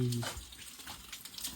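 Water runs and splashes briefly, fairly faint, after a short hum at the start, at Raigad Fort during a trek.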